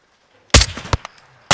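Sniper rifle shots from Call of Duty Modern Warfare II: a loud, sharp first crack after brief silence, followed by a couple of smaller snaps and echoes, then another sharp shot at the very end.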